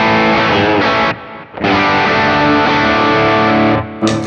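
Electric guitar played through the distortion side of a King of Tone overdrive pedal, loud, thick, sustained distorted chords ringing out with a brief drop in the middle and alone.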